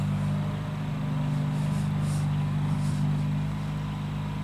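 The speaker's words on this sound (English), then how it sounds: "That's Terry Paul doing something with a riding lawnmower." A riding lawnmower running outdoors nearby, its engine putting out a continuous low, throbbing drone that holds steady at a moderate level, with no voices over it.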